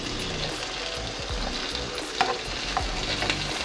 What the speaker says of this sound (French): prendre un peu de beurre et le verser sur le saumon